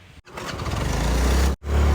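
A Honda Activa scooter engine runs with a buzzing, throbbing drone close by, cutting out briefly twice and resuming, loud and steady between the gaps.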